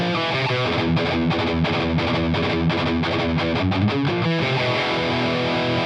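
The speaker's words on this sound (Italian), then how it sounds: "Con questi pick-up ESP LH301 che sono rossi" Distorted Les Paul-style electric guitar with red ESP LH301 pickups and a Floyd Rose bridge playing a dense, chugging riff, loud and continuous with no talking.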